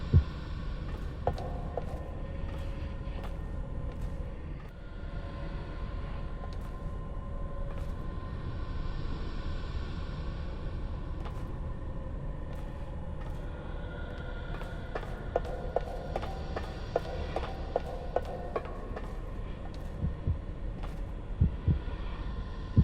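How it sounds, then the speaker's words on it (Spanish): Heartbeat of the character Joseph Oda in the horror video game The Evil Within, a steady low throbbing pulse over a continuous dark rumbling hum, with faint clicks and tones in the game ambience and no talk. "al acercarnos a Joseph podemos escuchar sus latidos del corazón"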